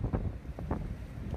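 Strong wind gusts buffet an outdoor microphone at a press conference in front of the National Human Rights Commission, a low, rough rumble rising and falling with no talk.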